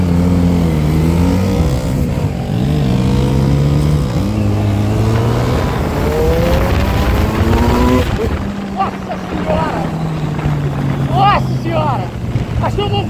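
A 2013 Z1000 motorcycle engine revs up through rising pitches, climbing repeatedly before dropping to a steady drone, loud and close, with a voice briefly over it.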